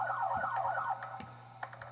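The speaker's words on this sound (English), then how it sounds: "We're here like police car sound effects." A police car siren in a Roblox video game: a rapid warbling wail for about a second over a low steady hum, then fading and giving way to a few faint clicks, with no one speaking.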